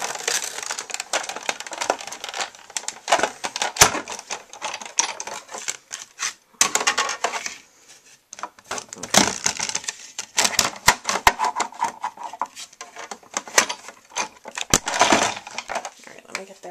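A Big Shot die-cutting machine has its handle cranked to roll a card and cutting pads through, giving close, dense clicking and crunching bursts with a short pause midway, then more cranking.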